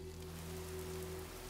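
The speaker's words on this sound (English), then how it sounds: "Why is it raining? It's raining, man." Steady rain falls in the video game Fallout 4, a soft continuous wash of droplets with a low constant hum beneath it and no talking.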